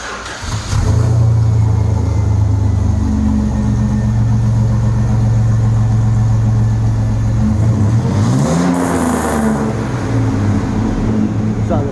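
A V6 truck engine idles steadily and loud up close with a deep throaty rumble, briefly revving midway before settling back to idle.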